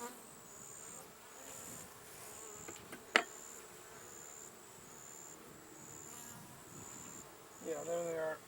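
Honeybees buzz steadily throughout a beehive inspection, a close, continuous hum with a sharp knock partway through and brief handling noise near the end.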